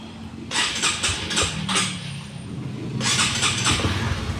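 A Honda Winner motorcycle engine with a misfire cranks and catches in short bursts, sputtering unevenly before dying, then tries again with another brief uneven run near the end, heard up close with no talking.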